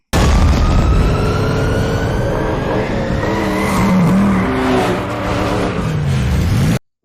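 A car in The Batman film roars loudly with rising, sweeping engine revs and screeching tire squeals as it skids, continuous and close throughout before cutting off abruptly.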